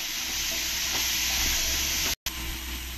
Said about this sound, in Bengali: এবার এই গুঁড়ো মশলা লঙ্কার গুঁড়োটা দিয়ে দেবো। দিয়ে ভালো করে একসঙ্গে আমি কষিয়ে নেবো।